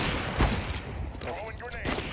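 Bursts of rapid gunfire ring out in a Counter-Strike match, with a sharp loud shot early and more rattling fire later, mixed with game effects and a voice speaking between shots.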